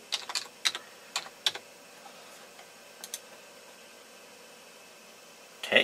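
A password is typed on a computer keyboard, a few quick close key clicks in short bursts separated by pauses, ending in a louder cluster of taps.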